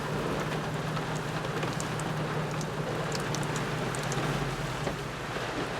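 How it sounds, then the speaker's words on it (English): Heavy, slightly slushy rain pours steadily in wind, a dense constant hiss of drops drumming on a surface, loud and unbroken with a low rumble underneath. "As you can see, it's raining pretty hard,"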